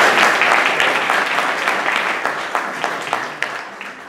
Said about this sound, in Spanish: unas fuertes palmas para ella